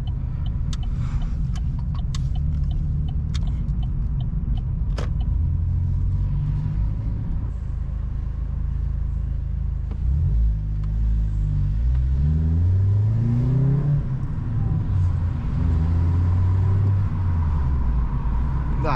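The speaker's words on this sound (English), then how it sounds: "exhaust is just absolutely delicious" A Vauxhall Corsa E with a loud aftermarket exhaust rumbles while driving, its engine note climbing through several revving pulls and gear changes, heard close and steady from inside the car.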